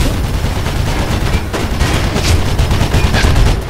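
Sustained gunfire from the first-person parkour game Mirror's Edge, a loud, dense fusillade of overlapping shots and booms running continuously through the whole stretch with no talk.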